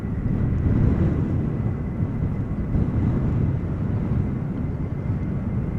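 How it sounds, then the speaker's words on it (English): A KLM Boeing 737-800 lines up for departure at Schiphol, its engines giving a steady low rumble at a distance, mixed with wind noise on the microphone. "And the next airplane is lining up, ready to go. KLM flight 1127, Boeing 737-800, going to Copenhagen."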